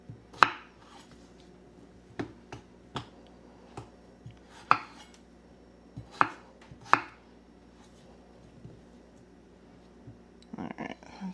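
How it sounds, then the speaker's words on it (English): Knife chopping vegetables into bite-size pieces on a cutting board in a home kitchen, sharp close chops landing in irregular single strokes and small clusters, with a faster burst of cutting near the end and no talking. "So I like to chop these up into 1/2 inch to inch pieces"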